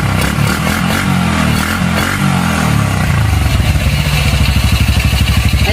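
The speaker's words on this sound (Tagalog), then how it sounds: "check natin kung yung throttle niya, yung response ng throttle niya is maganda." A motorcycle engine with an open carburetor is revved hard at close range, roaring and fluctuating with the throttle. It then settles into a rapid, lumpy idle with a clattering mechanical rhythm.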